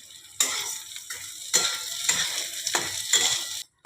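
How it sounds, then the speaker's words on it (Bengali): Moong dal stirred and fried in hot mustard oil in a pan, a steady sizzle with several bursts of scraping spoon strokes, close and clear, with no talk. "এবারে আমি মুগ ডালগুলো দিয়ে দিলাম, একটু তেলের মধ্যে নেড়ে নেব।"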